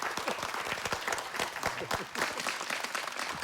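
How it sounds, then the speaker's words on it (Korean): A studio audience on a Korean TV variety show claps, the hand strikes distinct and close within an energetic, steady round of applause that carries through to the end. "박수 한번 더"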